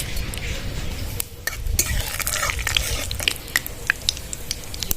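Whole cumin, dried chilli and bay leaf crackle in hot mustard oil in a kadai, a light sizzle broken by sharp spatula clicks and scrapes against the pan.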